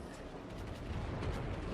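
Heavy battleship guns rumble in a naval game battle, a dense low roar of distant booms with no clearly separated shots, steady and fairly faint.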